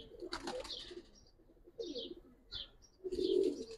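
Giribaz pigeons of the Palla line make soft, low coos in short bursts with a few light chirps and wing flutters, fairly close but faint against a quiet background.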